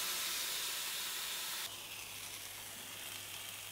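Chili peppers sizzle as they go into a hot pan for a beef dish, a soft even hiss that drops to a quieter, steady fry partway through.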